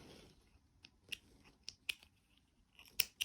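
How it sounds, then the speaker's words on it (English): Quiet, crisp scissor snips repeat irregularly, a series of small sharp clicks and cuts close by with no talking. "cut the yarn as close to the base of the ear as you can"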